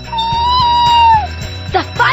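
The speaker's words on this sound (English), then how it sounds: "that kitty is stuck high up in a tree" A cartoon kitten stuck high up in a tree lets out a long, loud, drawn-out meow and then shorter mewing cries, over a steady rhythmic musical beat.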